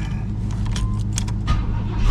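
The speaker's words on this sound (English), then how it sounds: "And crank this bad boy up." A car is being cranked up, with keys jingling close by over a loud, continuous low engine rumble that runs through the whole short stretch.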